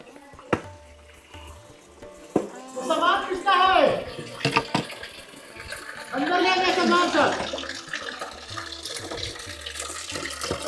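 Water flows at the source of the Son river in Madhya Pradesh, a steady broadband rush running through the whole stretch, with voices talking over it in two passages.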